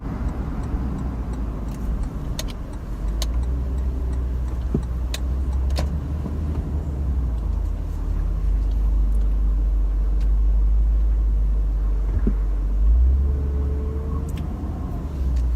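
A Lexus LX570 with a 5.7-litre V8 drives along a road in Kenya, its engine a steady, close low rumble under continuous road noise, with faint light ticking throughout.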